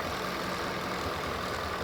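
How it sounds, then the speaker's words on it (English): A Ford Coyote engine idling in a truck with 149,000 miles, a steady, even hum that is fairly quiet, with no voices over it. "Now you can hear it's a relatively quiet engine."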